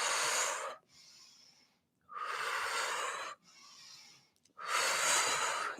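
Breathwork breathing, with three long forceful breaths through the nose, each lasting about a second or more. Softer, quieter breaths fall between them in a slow wave-like cycle, close to the mic.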